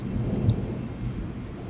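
Thunder from a strong summer thunderstorm over Bordeaux, a single deep rumble rolling steadily for a couple of seconds with a faint rain hiss and no voices.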